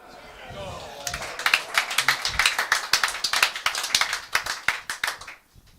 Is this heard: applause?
yes